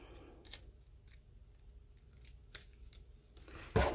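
Scissors snip excess jute twine on a craft card in a few sharp, close cuts spaced apart, with quiet pauses between and a louder final snip.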